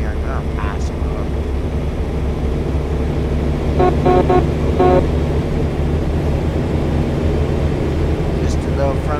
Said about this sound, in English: Just a little friendly honky honk so that you know that I'm there.